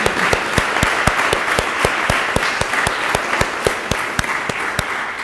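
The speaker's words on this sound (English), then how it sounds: "Let's please give a round of applause" Applause at an education awards ceremony for a high school teacher award recipient: a loud, close field of clapping with a few sharp, regularly spaced individual claps standing out over the crowd for several seconds.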